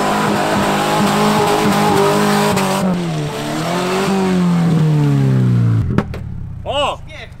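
A Subaru fitted with oversized truck wheels drives through mud, its engine droning and revving loudly before a few sharp exhaust pops crack out near the end, with voices briefly audible.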